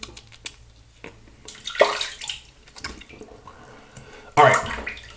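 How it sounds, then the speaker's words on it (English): Tap water runs and splashes in bursts as tallow shaving soap is rinsed off a face at a sink, with drips and hand splashes up close. Someone speaks briefly. "I'm gonna go ahead and rinse off"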